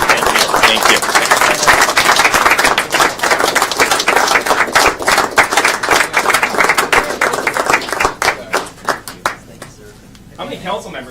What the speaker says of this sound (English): Let's give Dennis a round of applause, please.